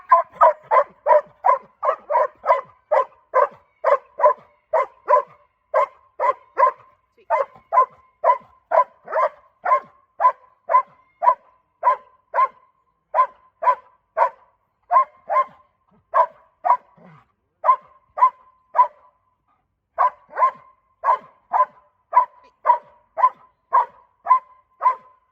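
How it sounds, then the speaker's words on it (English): A dog in obedience training barks on command in a long, regular series of sharp, loud barks, close by and repeated steadily with only brief pauses and no talking over them. "So when the bark is strong, I reward the dog by stepping back."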